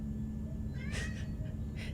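A pet cat meows a couple of times in a room, short mid-pitched cries over a steady low hum, fairly close and with no talking.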